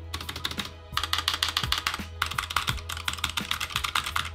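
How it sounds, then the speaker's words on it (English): Fast, steady typing on a Bloody B820 optical mechanical gaming keyboard, crisp clicky keystrokes close up in quick runs with brief pauses and no talking. "The sound is very similar to the Cherry MX Blues, but for lack of better words, it feels softer."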